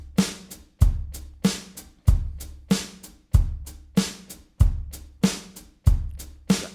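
Isolated drum kit groove from a song, with punchy kick hits, sharp snare cracks and cymbals in a steady syncopated pattern, loud and close with no voices.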